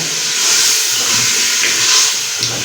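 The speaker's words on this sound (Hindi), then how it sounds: "आलू ऐड करके इनको अच्छी तरह से बीच में भूनेंगे।" Potatoes frying in a pan for aloo masala pulao, giving a continuous loud, even sizzling hiss that swells and eases slightly, with no talk.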